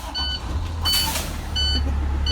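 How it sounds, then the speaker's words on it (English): A Class B school bus engine cranks and catches, its low rumble rising into a steady idle while repeated high electronic warning beeps chirp over it. "I'm gonna go ahead and start my bus back up."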